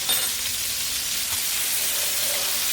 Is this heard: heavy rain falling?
no